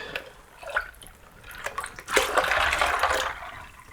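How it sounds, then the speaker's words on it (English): Liquid splashes and gurgles into a plastic bag in uneven bursts, building into a steadier close pour in the second half. "So I need to fill this plastic bag with some liquid."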